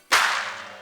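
Single sharp whip-like smack triggered from a keyboard, a loud sudden crack that decays into a short noisy tail, heard alone.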